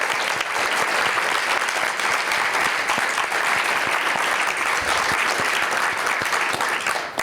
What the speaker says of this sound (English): I would like to have one final round of applause for all of the recipients and the nominees tonight